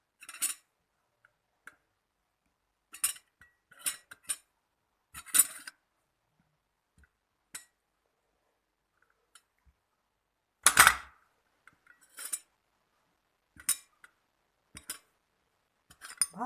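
A spoon knocks and clinks against a bowl while olives are stirred into a homemade cachir sausage mixture, giving sparse, separate taps that come close and fairly quiet with silence between them, plus one louder clatter.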